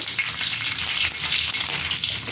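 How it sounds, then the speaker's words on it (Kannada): Chana dal, mustard seeds, green chilli, onion and curry leaves fry in hot oil, a dense continuous sizzle up close with light stirring, no voices. "ಈರುಳ್ಳಿ, ಕರಿಬೇವು ಹಾಕೊಂಡು ಫ್ರೈ ಮಾಡ್ಕೊತಾ ಇದ್ದೀನಿ"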